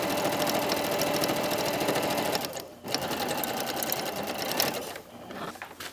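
A sewing machine runs steadily, stitching a jacket sleeve, with a brief pause near the three-second mark and a dip before the end.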